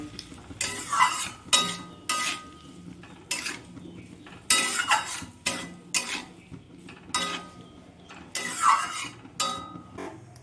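A spoon works a paste of ground cumin, ginger, turmeric and chilli powder around a hot pan in steady, separate stirring strokes, each with a scrape and a soft frying hiss, regular and fairly close.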